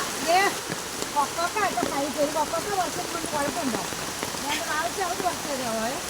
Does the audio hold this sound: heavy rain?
yes